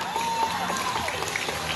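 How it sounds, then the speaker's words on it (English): A crowd at a sea lion show claps in a brief, dense burst of applause, with faint cheering and a whistle-like tone mixed in. "So folks, have a big round of applause for Sir Chris."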